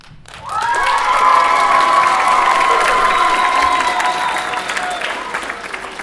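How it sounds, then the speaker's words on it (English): An audience at a fiddle concert in the Yukon cheers loudly as a group, a sustained wall of shouts and whoops that swells quickly and holds steady for several seconds before tapering slightly. "Now I need everyone to cheer as loud as you can."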